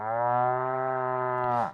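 A cartoonish cow moo from a soundboard, one sustained harmonic lowing call about a second and a half long that drops off abruptly at the end, loud and clean with nothing else behind it.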